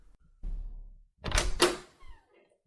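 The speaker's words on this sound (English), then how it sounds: "Door opening SFX inserted here." A door opens in a shack, with a low creak and thud followed by a couple of close, clattering bangs, then a faint trailing scrape.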